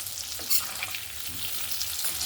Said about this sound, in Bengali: ক্যাপসিকামটাকে এরকম চৌকো করে কেটে নিয়েছি এটাকেও তেলের সঙ্গে একটু নেড়ে নেবো